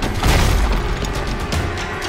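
In the Backrooms horror game, a monster smashes into walls with a loud, close, low rumbling boom and crashing debris, sustained over about two seconds.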